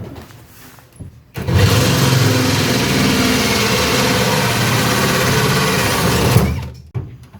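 A drill runs continuously for about five seconds, a loud close whine with a slight wobble in pitch, starting and stopping abruptly, drilling a hole while installing a Delta Eldridge kitchen faucet.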